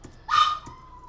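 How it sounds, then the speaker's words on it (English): A single short dog bark or yelp indoors, moderately near, one brief sharp burst over quiet room tone. "Sorry about the dog, you guys."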